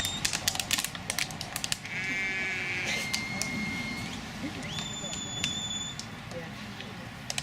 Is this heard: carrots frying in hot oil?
no